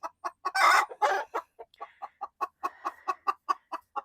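A hen clucks loudly and repeatedly near a nest box, a steady run of close, sharp clucks with a brief louder squawk burst early on.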